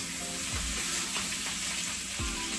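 Bacon sizzles and crackles steadily in bacon grease in a Corningware pan, a close, dense hiss with a couple of soft low thumps as the strips shift.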